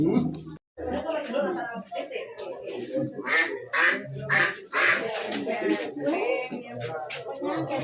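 Ducks quacking in a string of nasal calls at a Balinese temple ceremony, mixed with people talking and chattering nearby throughout.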